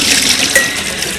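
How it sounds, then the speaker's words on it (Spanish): Broccoli being drained after boiling, the hot water gushing and splashing steadily out of the pot for a brief moment with no talk. "Voy a escurrir el brócoli. No quiero que haya presencia de agua."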